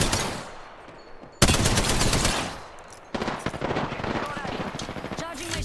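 Enemy gunfire in a shooter video game, loud rapid automatic bursts that cut in abruptly and keep rattling, with a brief quieter lull between volleys.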